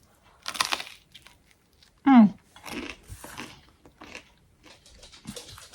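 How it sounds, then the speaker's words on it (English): Someone bites into and chews toast close up: a few short crunchy bites and chews come in separate bursts, with brief quiet gaps between them. "You don't want to watch me eat my toast"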